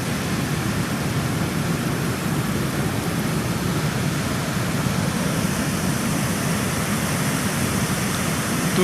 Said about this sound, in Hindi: तो ये दो तरफ से इसकी पानी आते हैं ग्लेशियर पिघल के।